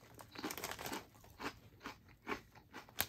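Close, crisp crunching of East Coast Lifestyle Covered Bridge potato chips being chewed, in irregular bursts with short pauses between bites.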